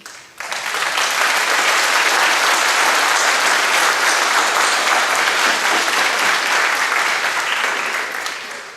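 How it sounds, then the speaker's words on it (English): Sustained, dense applause from a school concert audience thanking band parents, loud and steady for several seconds before tapering slightly at the end. "Mathis, would you clap for your parents?"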